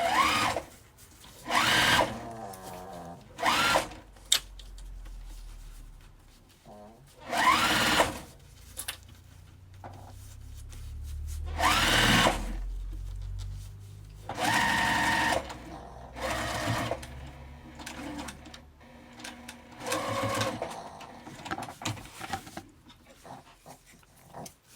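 Home sewing machine stitching a makeup zipper bag, running in several short bursts separated by pauses, with a voice talking in the gaps.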